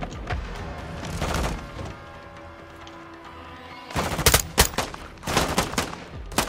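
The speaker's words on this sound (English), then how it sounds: "Y'all are shooting pistols" Pistol fire in the Modern Warfare 2 campaign: loud, sharp clusters of shots at the start, then a quieter lull, then heavy irregular bursts of shots and impacts, with no talk over them.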